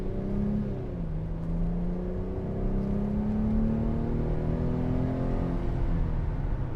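A 2006 Mercedes-Benz SLK280 engine revving from inside the car, its tone rising and settling in steady sweeps, fairly loud and alone without talk.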